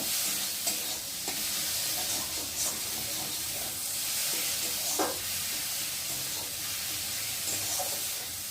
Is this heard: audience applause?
no